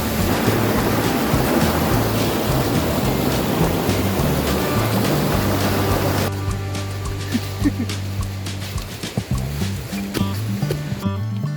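Lapse waterfall in monsoon flow roars as a dense, loud rush of water for about six seconds, then eases to a softer, steadier flow.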